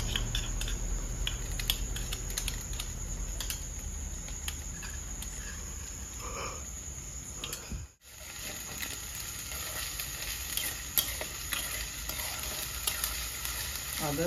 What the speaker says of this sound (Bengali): পেঁয়াজ হালকা লাল হয়ে গেছে, আদা রসুনের পেস্ট দিয়ে দেবো।